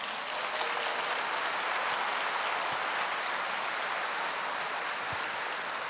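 A congregation applauds during a church sermon, steady dense clapping like rain that continues for several seconds without pause.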